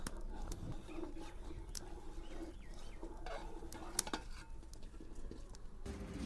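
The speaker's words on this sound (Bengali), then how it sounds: "তালটা দেওয়ার পরে খুব ভালো করে নাড়তে হবে, ঘাঁটতে থাকতেই হবে সময়।" Boiling milk with palm pulp stirred in a pot, soft scraping and patter of a spoon against the vessel, quiet and close, with faint outdoor bird sounds in the background.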